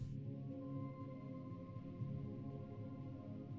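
A Synapse Audio Dune 3 synth pad base layer plays alone as a soft, sustained, low-register drone with steady tones.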